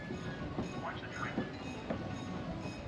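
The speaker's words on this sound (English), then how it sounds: "there's the train coming right now" A train rolls past at Point Pleasant Beach on the Jersey Shore, giving a steady, moderately loud rumble with faint clatter and some background voices nearby.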